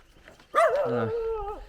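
A dog gives a single drawn-out, whining bark-like vocalization close by, rising then holding before trailing off, after a quiet outdoor stretch.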